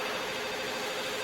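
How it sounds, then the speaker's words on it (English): Mobile phone ringing softly in the visual novel game Katawa Shoujo, a brief continuous electronic ringtone tone, fairly faint and steady, with no voices. "A familiar soft ringing begins to sound from Lily's side."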